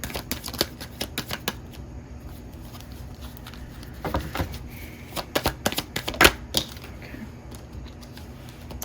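Tarot cards being shuffled by hand, with a run of crisp riffling clicks and soft slaps that come in uneven bursts, some louder snaps near the end, close up with no talking.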